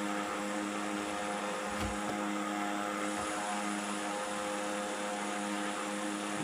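A propeller plane engine drones steadily in Microsoft Flight Simulator, a constant faint buzzing hum with a few low thumps early on.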